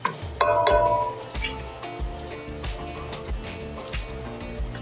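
Garlic toasts in a pan for lentil soup with sausage, a steady nearby sizzle that opens with a louder burst as it hits the hot fat, then settles into an even hiss with light stirring, no voices.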